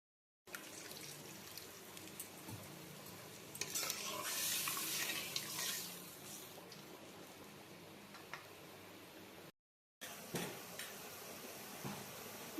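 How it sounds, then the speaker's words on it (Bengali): Water is poured into a pan of fried spice paste for pomfret curry. A steady splashing hiss swells in the middle, and light stirring clicks and a soft sizzle continue around it after a brief silent gap. "এবার দিয়ে দেওয়া হচ্ছে জল।"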